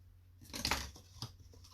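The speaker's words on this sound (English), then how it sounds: "I'm just going to give that a little snip because it's not even" Scissors give uneven craft material a quick snip, a short, faint, close crunchy cut with a smaller second clip just after.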